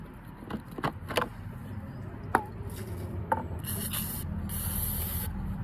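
Lubricant sprayed onto rusted tools pulled up while magnet fishing, in a couple of long hissing bursts near the end, after scattered metallic clinks and rubbing handling noises close by.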